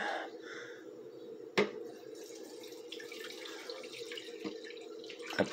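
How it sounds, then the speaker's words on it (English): Water pours from a carafe into a Bunn Heat N' Brew coffee maker, a quiet, steady trickle and splash with a sharp clack of the carafe partway through and small knocks toward the end. "And then I just pour it in."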